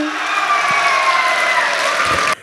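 Audience applause at a Hindi comic poetry recital: a dense, steady wash of clapping from a large crowd, loud and continuous, then cut off abruptly near the end.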